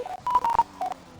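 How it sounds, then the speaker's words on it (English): Mobile phone tones go off in a quick series of short, loud electronic beeps at a few different pitches, with no talking. "That's just my phone going off"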